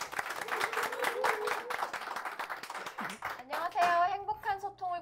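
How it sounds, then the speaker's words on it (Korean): Live audience clapping at a book forum author event in Korea, a dense burst of applause filling the first few seconds, then fading under a voice and chatter near the end. "박수 소리가 더 큰데?"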